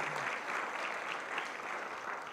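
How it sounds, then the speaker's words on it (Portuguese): A church congregation applauds during a prophetic worship service, with steady, dense clapping from many hands throughout and no pause. "Aplauda o Senhor pela vida dele."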